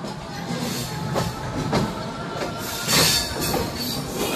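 A Bangladeshi local train near Jhikargachha passes close by, loud and continuous, its steel wheels squealing over a steady rolling rumble and rhythmic clatter of the cars.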